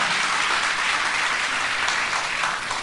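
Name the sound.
long round of applause for God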